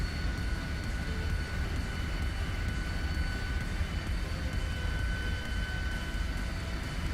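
A twin radial-engine airplane in a flight simulator takes off from runway 9 toward Orlando, giving a steady, even engine drone at moderate loudness with no talking.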